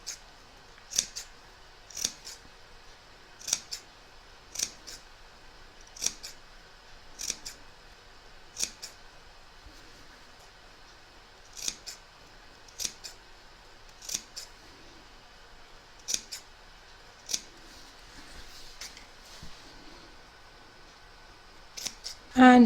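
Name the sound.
scissors snipping fabric edges of a rag quilt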